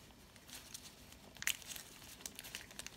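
Crinkling of a tightly sealed plastic bag from a 1/72 scale Holt One Man Tank model kit as someone struggles to open it, faint crackles and brief rustling bursts close by, with one sharper tearing crinkle midway.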